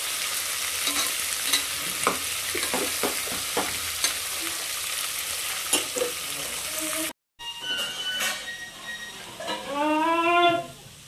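Vegetables fry in a pan with a steady broadband sizzle and repeated stirring scrapes, a brief dropout partway through, then louder sizzling with faint tonal squeaks near the end; no talking.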